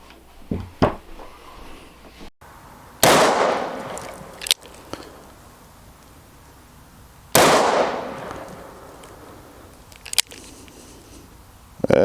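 Smith and Wesson 29-3 Silhouette .44 Magnum revolver with old wood grips fired outdoors, two loud, sharp single shots several seconds apart with ringing decay, plus a few small clicks and handling knocks between them.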